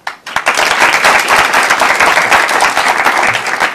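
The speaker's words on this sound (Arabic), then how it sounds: "زيدوا له تصفيقة" Studio audience at a televised Arabic comedy show breaks into loud, sustained applause, a dense wash of many hands clapping steadily for the whole stretch with no talking over it.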